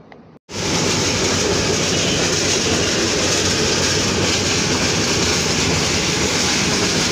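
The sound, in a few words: Nasirabad Express night train running on rails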